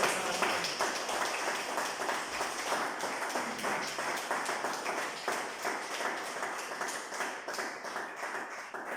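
A church congregation claps steadily for about nine seconds, many hands at once producing a dense, continuous patter of applause with no voices rising over it.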